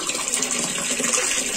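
Water from a pipe pouring steadily into a container at a rural home, giving a continuous close rush and splash with no speech over it.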